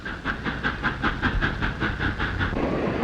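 Train rolling along a railroad, a steady rhythmic clickety-clack of wheels over rail joints with a hissing rumble, loud and continuous, fading slightly at the end.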